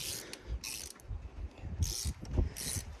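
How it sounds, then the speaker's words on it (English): A regular ratchet on an extension works loose the spark plugs of an abandoned Dodge Omni, giving repeated short clicking bursts close up, with no talking. "So just use an extension and a regular old ratchet."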